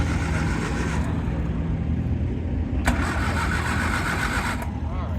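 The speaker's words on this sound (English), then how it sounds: "MGA here, having a little starting difficulty." An MGA car engine turns over and struggles to catch, cranking unevenly under a steady background of crowd noise and nearby voices at a cars and coffee gathering.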